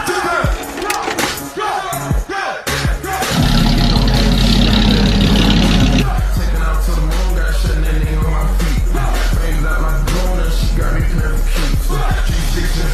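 A big-turbo L5P Duramax diesel truck cranks and catches on a cold start, settling into a loud, steady idle after a few seconds of scattered handling noise.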